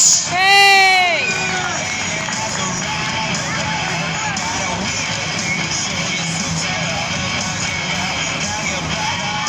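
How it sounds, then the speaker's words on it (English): At a Christmas light switch-on in Burslem, a crowd of adults and children lets out a loud whooping cheer, then settles into sustained clapping and chatter that carries on steadily underneath. "Give them a round of applause."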